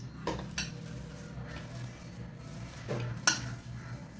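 Crumbled leftover idli is tossed into a pan and stirred for podimas, with a few scattered scrapes and clinks of a spatula against metal over a low, quiet background.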